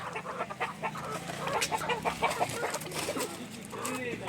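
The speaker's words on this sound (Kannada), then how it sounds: "ಇಲ್ಲಿ ನೋಡಲ್ಲಿ ಬ್ಲ್ಯಾಕ್ ಕೋಳಿ ಐತೆ" A black hen clucks repeatedly in short, busy bursts close by in a village yard, with other chickens and a little background talk mixed in.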